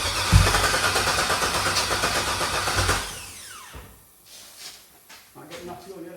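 An LS-swapped V8 tries its first start, cranking and catching roughly for about three seconds before cutting out, leaving quieter clanks and workshop noise afterward.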